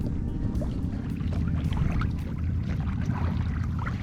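A Catalina 22 sailboat cruises slowly at about 2.6 knots, its hull swishing through water in a steady, close wash with light wind noise and no talking.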